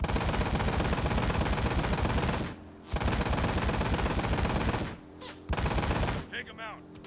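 Loud, continuous automatic gunfire from the motorcycle action game Ride to Hell: Retribution, rattling in long sustained bursts with brief pauses between, and a voice speaking faintly near the end.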